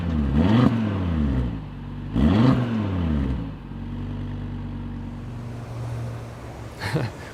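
Cupra Formentor VZ5 engine revs loudly twice in sharp blips, then settles into a steady idle with a brief third blip near the end, outdoors at a marina.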